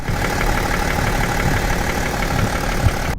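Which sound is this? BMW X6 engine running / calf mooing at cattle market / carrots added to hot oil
BMW X6 engine running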